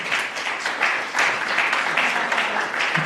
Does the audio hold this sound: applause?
yes